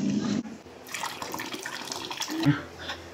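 Hot water running from a tap for a baby's bath, a steady close gush that starts after a short pause and continues throughout, with faint voices underneath.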